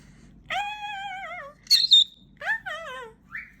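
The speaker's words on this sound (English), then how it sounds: "Oh, she's a pretty bird." A galah cockatoo gives several close, wavering squawks and screeches in uneven bursts with short pauses between them, and there is no talk.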